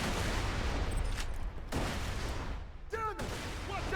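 Mortar fire and blasts in the video game Borderlands 2, a dense, rumbling barrage that stays loud throughout, with brief voiced cries cutting through near the end.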